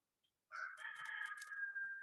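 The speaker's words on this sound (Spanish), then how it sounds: "qué padre se oye tu gallo ahí, Faustino" A rooster at a ranch crows once in a long, drawn-out call, clear and fairly close against otherwise quiet surroundings.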